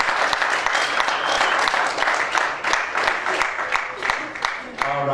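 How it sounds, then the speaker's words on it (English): Fans applauding and clapping at a Triumphant 4 combat sports press conference, a steady wash of many hands with sharper individual claps standing out, with speech mixed in throughout. "you got a bunch of fans here that were clapping whenever we said your name"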